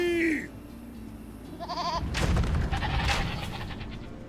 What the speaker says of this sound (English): Who wants all of these goats?